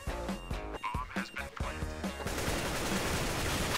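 Gunfire in Counter-Strike: Global Offensive, a run of sharp repeated shots with rhythmic bursts early on, then dense continuous crackling fire to the end, with no talk over it.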